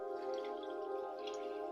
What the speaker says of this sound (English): Now we'll take about 3 to 4 cups of water as per desire and pour that in.